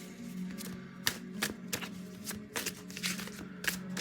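Tarot cards being shuffled and drawn by hand, a quiet run of soft papery riffles with several sharper close snaps and flicks spread unevenly across the few seconds.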